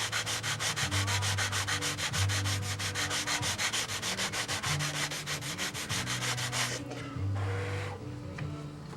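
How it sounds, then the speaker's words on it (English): A U Master 812 Spit boat rudder is sanded with a power sander that runs in a fast, steady buzzing rub, its pitch wavering as pressure shifts, then cuts off near the end, leaving quieter handling noise. "Now as I'm sanding this in"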